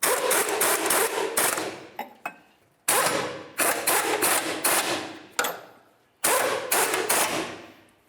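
Rapid ratchet clicking as a 19mm socket tightens nuts on the lateral link of a 1999-2003 Toyota Solara, in three close, loud bursts separated by brief pauses.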